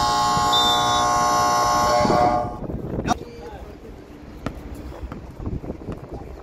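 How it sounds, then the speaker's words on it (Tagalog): A loud, sustained electronic game-clock buzzer blares for about two seconds at a basketball game, then cuts off, leaving crowd noise and scattered thumps. "May buzzer pala to."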